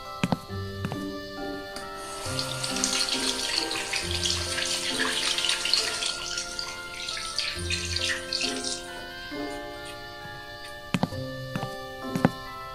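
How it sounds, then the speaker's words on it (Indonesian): Tap water runs into a sink as hands are washed, a close splashing gush that swells and fades with a few clinks and knocks around it, no speech. "Ya udah deh, engkau cuci tangan dulu ya."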